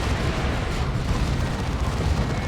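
Lascannon shots in Warhammer 40,000: Dawn of War 2 during a 3v3 match, a dense, loud, continuous rumble of heavy booming blasts and explosions with no clear gaps.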